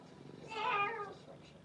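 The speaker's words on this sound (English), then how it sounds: "and there is your cat, Pumpkin." A house cat meows once at close range, a single drawn-out, moderately loud call rising and fading over about a second.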